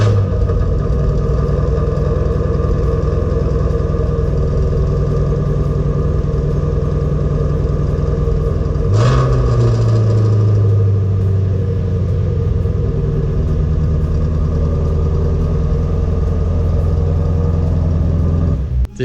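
Corvette ZR1 sports car with a deep, steady engine rumble that holds at idle, then rises sharply around the middle in a single throttle blip and settles back to a loud, close idle.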